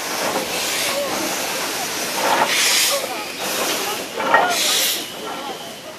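A Beyer Garratt steam locomotive lets off long, loud bursts of hissing steam in several surges that swell and fade, with a broad rushing noise filling the gaps between them.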